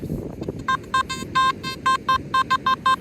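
A Nokta Simplex+ metal detector in beach mode gives a series of short electronic target beeps in an uneven rhythm, clear pure tones over faint outdoor background noise.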